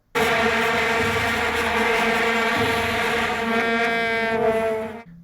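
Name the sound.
many vuvuzelas playing together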